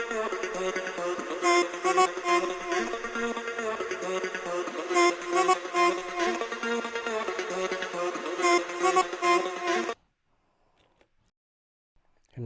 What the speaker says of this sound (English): The process is basically a camel crusher to distortion